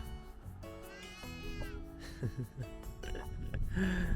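Sheep bleat on a farm in Ireland, with a few drawn-out, wavering calls at close range, followed by shorter bleats and snorts over a low rumbling background.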